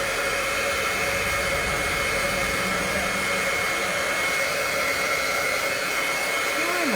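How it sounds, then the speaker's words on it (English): Hair dryer blowing steadily on mixed media craft tags, a loud continuous whoosh with a constant hum that holds unbroken throughout, near and alone. "We're going to hit it with the dryer."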